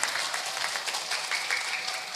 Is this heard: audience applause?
yes